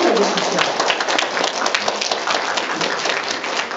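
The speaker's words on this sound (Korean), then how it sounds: "박수 크게 쳐주십시오." Audience at a Korean children's speech contest awards ceremony applauds loudly and steadily, a dense sustained wash of clapping close by throughout.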